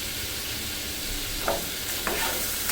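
Potatoes are tipped into spice masala frying in a pan, giving a steady loud sizzle with two brief scraping stirs near the end. The sound is close, with no talk.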